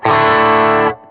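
Stratocaster electric guitar played through an Ampeg B15N amp plugin on its raw setting with distortion turned down, a single sustained chord ringing bright and full, then cutting off sharply.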